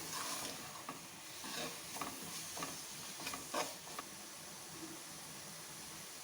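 A spoon scrapes and stirs spices with amchur powder in a pan in a run of short, quiet strokes over a faint sizzle.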